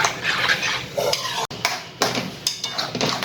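A spoon stirs thick khandvi batter of gram flour in a pan over a medium-low gas flame, giving close scraping and clinking against the metal in short repeated strokes with brief pauses.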